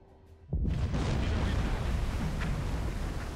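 A torpedo strikes a battleship in the submarine game Silent Hunter 4, set in the Pacific: a sudden heavy blast that opens into a long, loud, rumbling roar, sustained with crackling debris and no talk.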